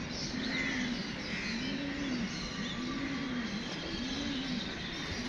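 Pigeons released by a loft keeper at a pigeon-flying contest, heard as soft repeated coos in a steady rhythm over constant outdoor background noise, with faint chirps above.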